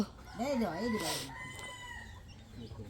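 A home-raised, bright red rooster gives one loud, close crow that rises and falls in pitch, followed by quieter farmyard background noise.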